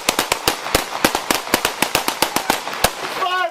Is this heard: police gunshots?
yes